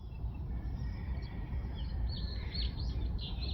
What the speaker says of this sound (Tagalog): Ayan, may ano, ibon.